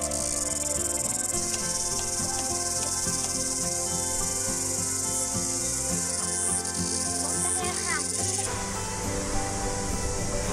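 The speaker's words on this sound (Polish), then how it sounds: "w trakcie przejść przez las odgłosy cykad, których słyszymy i widzimy całe mnóstwo" Dense, continuous insect chirring fills the air in a New Zealand forest, a loud steady buzz of many cicadas layered over each other with shifting tones.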